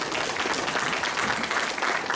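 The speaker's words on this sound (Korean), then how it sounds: "박수 쳐야 되는데" Audience at a special lecture on surviving the AI era breaks into steady, dense clapping that fills the whole short stretch at an even level, with no voices above it.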